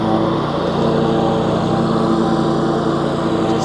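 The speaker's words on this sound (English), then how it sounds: "mowing the front of the building area" A lawn mower cuts tall grass at the front of a farm building, a loud, close, unbroken engine drone holding a steady pitch from start to finish.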